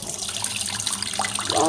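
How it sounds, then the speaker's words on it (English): Water rushes steadily down a kitchen sink drain that has just been unclogged and repaired, a close, continuous splashing and gurgling flow with no voices over it. "The water is flowing."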